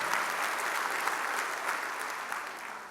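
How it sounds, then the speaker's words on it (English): Audience at an Eggs and Issues event applauds the superintendent with sustained, even clapping, moderately loud and continuous. "y'all can absolutely applaud the superintendent"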